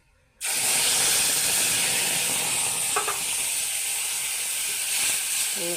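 Dry red chilies hit hot oil in a pan for a Bengali fish curry made with yogurt, setting off a loud, steady sizzle that begins abruptly and continues without any voices.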